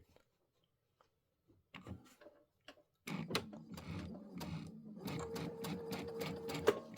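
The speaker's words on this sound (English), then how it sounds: "So I'm going to sew right down here." A home sewing machine stitches in the ditch on a quilted Christmas project at a short stitch length, with faint handling clicks first, then a steady close whirring hum with rapid needle ticking for the last few seconds.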